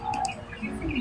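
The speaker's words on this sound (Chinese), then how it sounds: "那个小鸟，好，好可爱，" A small bird in a park gives a few brief chirps and a soft coo-like call, faint against low outdoor background noise.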